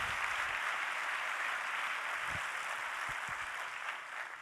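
A conference audience claps steadily for an on-stage volunteer, a dense even wash of applause across the whole stretch that fades slightly near the end, with no voices over it.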